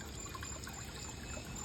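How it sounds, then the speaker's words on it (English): Steady water trickling and splashing from a garden fountain, a continuous soft wash of sound with no voices. "Up here is the beautiful fountain"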